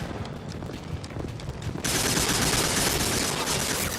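Sci-fi combat gunfire in Mass Effect 2, a steady rattle of rapid shots that turns into a louder, denser barrage halfway through, with no talking.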